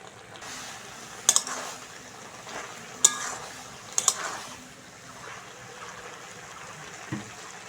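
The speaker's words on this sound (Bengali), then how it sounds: "খুন্তি দিয়ে বন্ধুরা একটু আলুগুলো সিম বেগুন একটু ঘেঁটে ঘেঁটে দেবো" A spatula stirs potatoes, flat beans and eggplant in a pan over low sizzling, with soft scraping and a few sharp clanks of metal on the pan at close range, without any talking.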